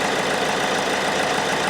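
A Hyundai i30 1.6 CRDi D4FB diesel engine idling steadily just after starting, with a close, even low ticking pulse under a constant broadband hum, no voices.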